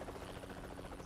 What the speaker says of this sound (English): It's a helicopter, but it's really hard to control.